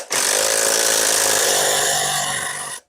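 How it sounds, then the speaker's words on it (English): A power tool runs in one continuous loud whir for nearly three seconds and then stops, used to tighten the rear axle on a B200 RSV motorcycle during a street tire swap. "I'll tighten up this axle."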